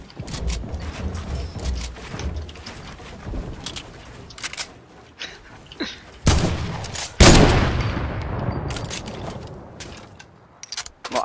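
Gunfire in the video game Fortnite: scattered quick shots and mechanical clicks build to two loud bursts of fire near the middle, then a fading rushing tail.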